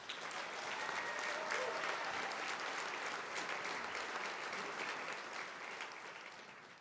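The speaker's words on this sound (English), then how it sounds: "Please give this winning group another round of applause." Steady, dense applause from an awards gala audience, a sustained wash of many hands clapping at a distance, fairly faint and tapering off toward the end.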